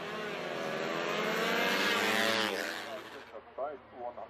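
Moto3 and 125cc racing motorcycles at the 2019 Cookstown 100 road race, engines screaming loud and close as they pass, rising to a peak, then fading into the distance as a commentator's voice takes over.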